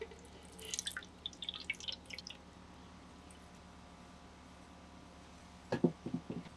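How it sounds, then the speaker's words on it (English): Water is poured onto a brick in a houseplant setting, giving short bursts of soft dripping and splashing at the start and again near the end, close and quiet, with a calm pause between. "I'm gonna take this brick and I'm gonna add some water"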